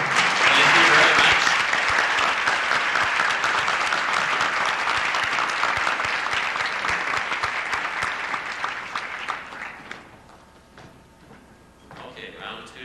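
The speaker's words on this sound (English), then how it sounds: "we're going to excuse you from the stage with a round of applause" Loud applause from the audience at a 1991 Bloomington spelling bee as contestants leave the stage, strong at first and then gradually tapering off, with a voice speaking near the end.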